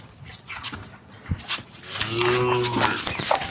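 A young red-and-white Holstein Friesian heifer lets out one long, drawn-out moo close by, following some rustling and shuffling noises.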